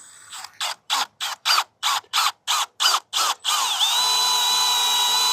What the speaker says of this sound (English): drilling a hole.